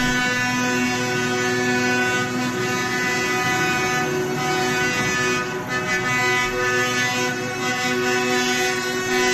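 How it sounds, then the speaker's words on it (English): Loud, sustained blaring truck horns sound over a dense rumbling crowd and traffic at a farmers' protest in Germany, the honks overlapping continuously for several seconds. "I love the sound of honking. I love this sound."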